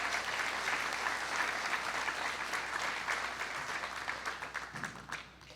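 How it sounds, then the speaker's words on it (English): A hearty round of applause rises from the crowd at a county junior fair royalty contest for the young contestants, steady dense clapping that tapers off near the end. "one more hearty round of applause for these kiddos"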